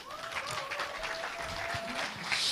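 Party members at a Jeju political convention applaud as a candidate is welcomed to the stage, a moderate, crowded clapping with a held tone and faint voices underneath, swelling slightly at the end.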